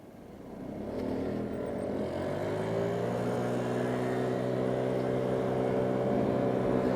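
An M Performance car engine idles steadily with a deep, smooth rumble, starting softly and quickly settling into a constant, close hum.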